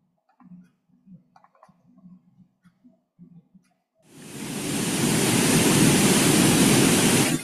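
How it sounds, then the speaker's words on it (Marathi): A strong waterfall swells in after a stretch of faint scattered ticks and becomes a loud, continuous, close roar that holds steady. "एवढ्या जोरात धबधबा सुरू आहे."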